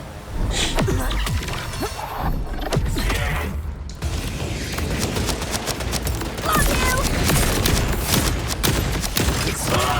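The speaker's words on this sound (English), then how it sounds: "Let's get out our sticky grenades" Sticky grenades and gunfire go off in the Borderlands 4 shooter video game amid a dense, continuous barrage of bursts, mechanical clatter and shattering impacts, loud and chaotic from start to finish.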